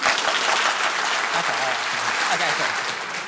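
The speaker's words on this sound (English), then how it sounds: "Can you just applaud?" A conference audience at a coding talk claps in a dense, continuous burst of applause, loud and sustained for a few seconds with crowd noise underneath.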